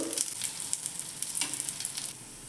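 A fasting cutlet made without flour, onion or garlic fries in ghee in a pan, giving a steady close sizzle with fine crackles and no voices.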